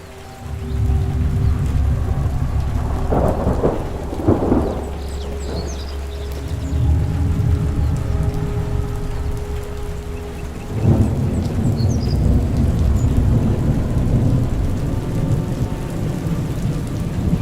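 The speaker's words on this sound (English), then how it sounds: "it rose out of the clouds with the loud sound of thunder" Heavy rain pours steadily while deep thunder rumbles loudly in several rolling bursts, close and powerful, with no voices present.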